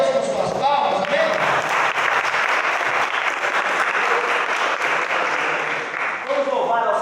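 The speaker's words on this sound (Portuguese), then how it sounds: "Louve a Deus com suas palmas" A church congregation claps in praise during a Holy Communion service, a dense, steady wash of many hands that fills the room, with voices and a few shouts mixed in beneath it.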